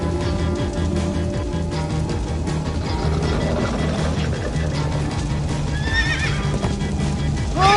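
A Minecraft: Story Mode horse whinnies over a steady rush of galloping hooves, with a dense, continuous rumble throughout and a high neigh near the end.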